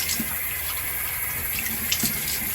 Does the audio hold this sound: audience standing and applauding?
no